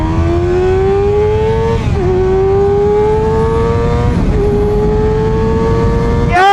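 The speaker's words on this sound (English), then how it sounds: "Let's see what this motorcycle's got under the hood" A Kawasaki ZX6R sport motorcycle's high-revving engine climbs steadily in pitch, drops briefly at each gear shift, then climbs again, loud and close, with no talking.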